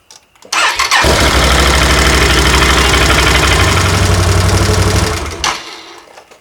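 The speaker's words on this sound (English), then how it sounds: "let's start this thing and see what happens" A Can-Am Outlander 850 XMR ATV engine cranks and catches with a loud start, then holds a steady, close idle for several seconds before the sound fades out. Nobody speaks.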